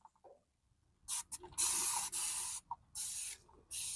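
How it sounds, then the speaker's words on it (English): Dawn Power Wash degreaser sprayed from a trigger bottle onto the greasy interior of an Oklahoma Joe's Bronco drum smoker, several close, hissing squirts of uneven length with brief pauses between them. "is spray it down with this Dawn Power Wash."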